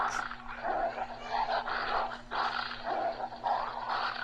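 A dog in the mobile game Call of Duty: Mobile barks and growls repeatedly in rapid bursts, with a steady electronic hum running underneath throughout.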